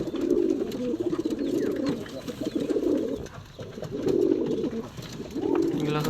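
Pigeons, young birds and older breeders in a loft, give soft repeated cooing phrases in rhythmic bursts, fairly close and clear against a quiet background.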